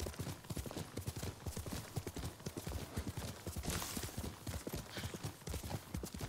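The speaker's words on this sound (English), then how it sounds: "call the horse again" Steady, rhythmic clip-clop of horse hooves at a brisk gallop, continuous and fairly close throughout, in the video game Ghost of Tsushima.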